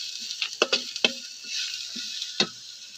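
Heaps of onions sizzle in a pan over a village cooking fire, nearly done frying, with a steady bright hiss broken by several sharp clinks and scrapes from stirring, close and alone.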